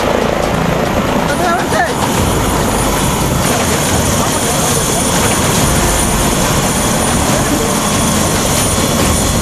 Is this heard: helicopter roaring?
yes